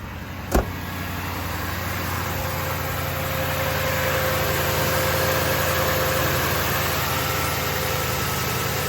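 A car engine idles steadily while warming up, a low continuous hum with a faint whine and a single sharp click near the start.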